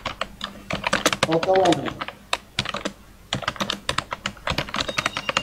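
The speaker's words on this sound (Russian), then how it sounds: "отключите микрофончик, так громко вы печатаете прямо" Fast, loud typing on a computer keyboard close to a microphone during a Skype Bible study call, rapid clattering bursts with brief pauses, while a man reads aloud over it.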